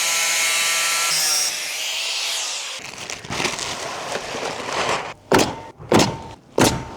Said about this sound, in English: So I'm just gonna put a couple roofing nails in this.